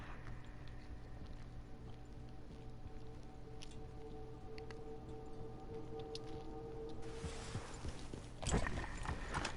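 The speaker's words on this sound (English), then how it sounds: "This guy on a horse." Horse hooves clip-clop steadily at a walk in Red Dead Redemption 2, a soft continuous rhythm under a low ambient hum, with a louder rustle near the end.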